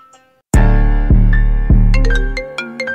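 Phone ringtone in a rap song: a loud synthetic melodic tone that starts abruptly and repeats in pulses about every half second, then breaks into quick higher notes, with no talking over it.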